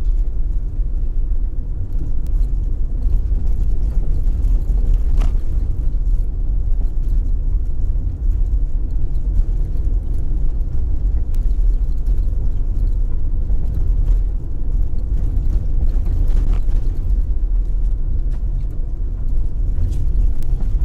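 A car rides along a bumpy rural road in St. Elizabeth, Jamaica, with a steady low rumble of engine and road noise throughout and occasional knocks and jolts from the uneven surface.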